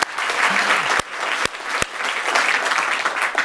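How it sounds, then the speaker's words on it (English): An audience at a U.S.-Africa Leaders Summit civil society forum applauds in a steady, close wash of clapping with a few sharper claps standing out, lasting a few seconds. "we can give him a round of applause"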